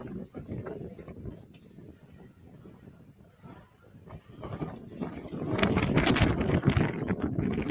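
Gusty wind buffets the microphone atop the ruins of Pikillaqta, Peru, rumbling unevenly and growing louder and rougher toward the end.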